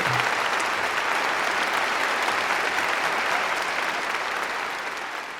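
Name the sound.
round of applause sound effect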